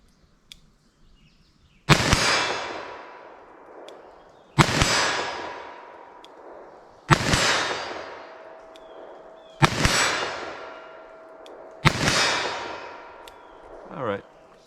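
.357 Magnum revolver in slow fire at a target 40 yards away, five loud sharp shots spaced a couple of seconds apart, each ringing out with a long echoing tail outdoors.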